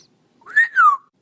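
A rose-breasted cockatoo, or galah, whistles a clear two-part note, rising then sliding down. It is short, close and alone against silence.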